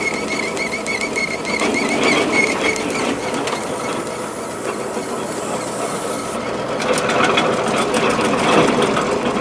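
Conveyor belt running on an Arpal AM-120TR land clearing machine, a loud continuous mechanical whirr with rapid ratcheting clicks and gear rattle that grows busier and louder toward the end.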